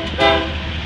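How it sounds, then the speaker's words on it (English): A CSX eastbound autorack freight train sounds its air horn, one loud sustained blast that swells briefly before holding steady, close by and without talking. "Blow it, the horn, blow it!"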